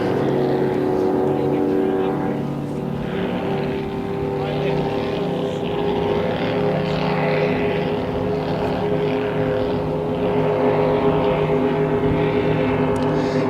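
A loud, steady engine drone from a Pro Stock racing boat at Moses Lake, holding a constant high-revving roar throughout with a commentator talking over it.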